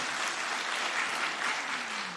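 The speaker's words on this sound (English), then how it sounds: "Nominees, oh yeah, you can clap for that." An awards ceremony audience applauds for the nominees, a dense, even wash of clapping from a large crowd that holds steady for the whole moment without any voices.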